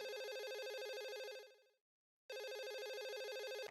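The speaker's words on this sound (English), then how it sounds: "We've got a phone call." A telephone rings for an incoming call: two loud, bright electronic ringtone bursts with a short silent gap between them, heard alone with no talking.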